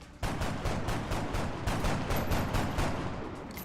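Gunfire in a tactical video game: a rapid, steady volley of shots erupts suddenly and keeps rattling loudly and continuously for a few seconds, with no talking.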